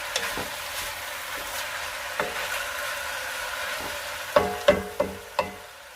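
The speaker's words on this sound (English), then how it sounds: "And I'm going to saute this." Onion and other pasta ingredients sauté in a pan with Creole seasoning, giving a steady soft sizzle under intermittent stirring, punctuated near the end by several sharp scrapes of a utensil against the pan.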